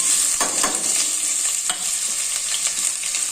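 Onions and green chilli sauté in hot oil with cinnamon, cloves and cardamom for a paneer veg biryani, a steady bright sizzle with a few scraping stirs of the spoon, close and continuous with no talking.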